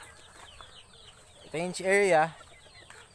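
A chicken lets out a short, loud cluck close by over faint background noise, with brief quiet speech before it.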